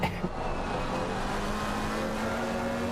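Porsche race car in a sim racing game lapping the Red Bull Ring, its engine a steady, fairly loud drone with a sustained tonal whine as it carries speed through the corners, no voices over it.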